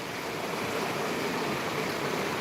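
Sutlej river floodwater rushing steadily, a dense broadband wash of flowing water that stays loud and even throughout with no voices.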